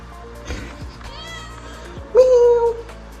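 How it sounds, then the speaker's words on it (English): A cat lets out a loud, drawn-out meow near the microphone, after a couple of softer, brief vocal sounds. "Why are you screaming? Why are you crying?"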